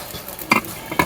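Stems tipped into hot, reddened oil on a village cooking fire hiss up in sharp sizzling bursts, two loud surges of frying over a low crackling bed, with no talk.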